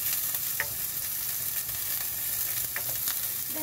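Onions hit a hot pan for a Filipino monggo dish and sizzle loudly and continuously up close, with a few faint stirring scrapes over the steady hiss and no voices.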